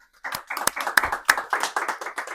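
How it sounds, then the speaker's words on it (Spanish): Applause for a podcast interview guest: a small group claps, starting softly and building into a loose run of distinct, fairly close hand claps for about two seconds, with no voices. "le pido a todos un aplauso para Francisco"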